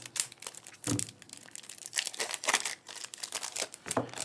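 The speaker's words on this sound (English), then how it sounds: "I can cut the edge here. And just kind of trim it around." Plastic card bag from a Star Wars deckbuilding game box being cut and trimmed along its edge: close, irregular crinkling and rustling with sharp snips and crackles repeating through the clip, no talking.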